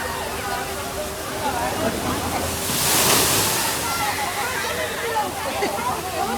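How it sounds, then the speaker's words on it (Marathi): Water pours down from above at a resort water ride, a steady rushing splash that swells briefly in the middle, with voices faintly under it. "गोलू घाबरला वरून पाणी पडतं म्हणून."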